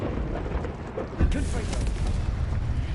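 Incendio fire spell cast in Hogwarts Legacy on PlayStation 5: a sudden whooshing burst flares up about a second in, then a sustained roaring rumble over steady low game noise.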